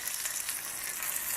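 Lamb chops sizzle in hot smoking olive oil in a pan, a steady hissing fry at moderate level with no voices.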